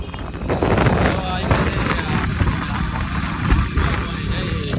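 Outdoor breeze blowing through trees near a temple, heard as a continuous gusty rumble buffeting the microphone, with people talking over it throughout.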